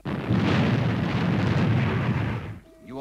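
Retro rockets firing on the Fireball XL5 spacecraft, a loud, dense roaring blast that holds steady for more than two seconds, then cuts off into a quieter moment with faint voice-like tones.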